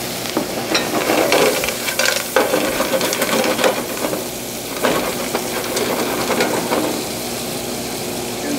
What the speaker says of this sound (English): We're going to let that saute for a little bit.